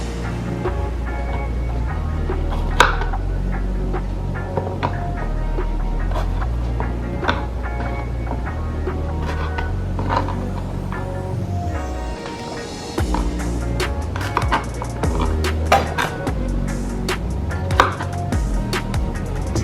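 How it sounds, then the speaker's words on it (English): A knife chops through okra on a board, trimming the tops while preparing Jamaican fish tea soup, giving repeated close sharp knocks in an uneven rhythm with light handling clatter between cuts. "Now I will use a knife to cut away the top"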